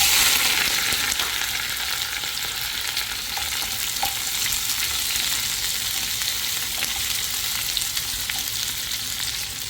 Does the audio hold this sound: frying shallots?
yes